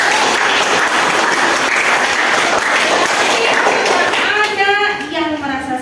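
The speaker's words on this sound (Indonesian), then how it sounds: "Oke, beri aplaus dulu." A classroom of students claps together in a dense burst of applause that fades toward the end as a voice starts talking over it.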